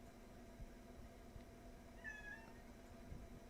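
A house cat lets out one short meow midway through, faint against low, steady indoor hum while rain falls outside.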